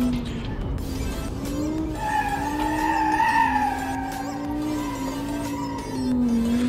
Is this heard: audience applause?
no